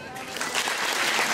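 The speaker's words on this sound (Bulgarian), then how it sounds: "Варта Ценкова, аплодисментите за нея никога, никога не са достатъчни" A theatre audience applauds at an anniversary celebration for a ballet teacher, dense clapping building and holding steady while an announcer speaks over it.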